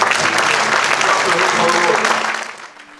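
A church congregation applauds together, a loud, dense burst of clapping close around that holds for about two seconds and then quickly fades away.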